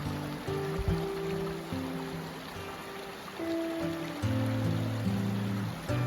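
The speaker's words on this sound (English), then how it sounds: "Try to cross this little creek." A small glacial creek near Castner Glacier, Alaska, babbles and trickles continuously, with a constant broad wash of sound and no voices.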